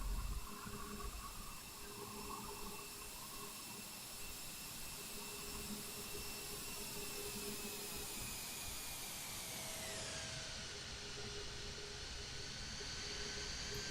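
A ToLiss A321 easyJet airliner lands in the X-Plane 11 flight simulator, with a steady jet-engine whine and airflow hiss. Near the end the whine drops in pitch as the engines spool down, and no one speaks.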